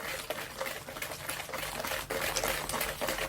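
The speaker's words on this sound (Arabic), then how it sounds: "بعد بنحرك كتير منيح" Cookie dough mixture with vanilla being stirred in a bowl, giving a continuous wet, sticky squelching and scraping, fairly faint and close, with rhythmic swells from the stirring motion.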